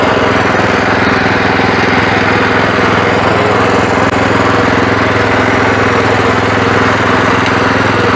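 Weima WM1100C-6 walk-behind tractor running in reverse: a steady, loud, close-up engine drone with a rapid knocking chug that holds without a break.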